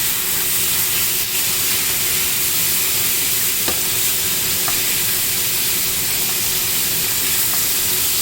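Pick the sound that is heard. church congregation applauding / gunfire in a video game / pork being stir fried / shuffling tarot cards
pork being stir fried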